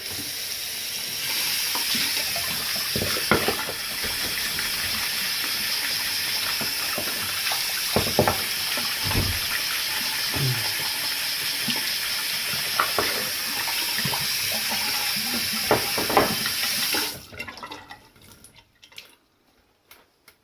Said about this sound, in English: Let me rinse this baby off right quick.